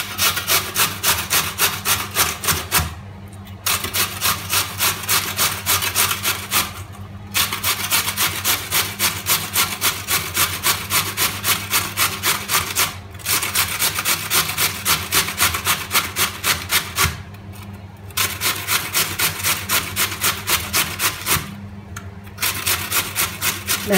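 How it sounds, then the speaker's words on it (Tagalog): Peeled potatoes are shredded by hand on a coarse shredder for a stovetop cheese-and-hotdog potato bake, giving loud, steady rhythmic rasping strokes that run continuously with brief pauses every few seconds and no talk. "we'll use the shredder"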